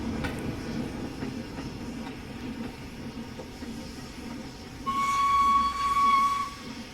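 Steam locomotive sounds from the Train Sim World 2021 game: a B17/6 engine using Scotsman sounds hisses and chuffs steadily at moderate level, then a loud, clear steam whistle blows for about two seconds near the end.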